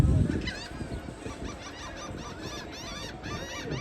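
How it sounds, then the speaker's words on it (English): Seagulls calling along the Atlantic City boardwalk in New Jersey, a run of repeated squawking cries over outdoor crowd noise and footsteps, with a louder thump at the start. "The seagulls, there's so many of them."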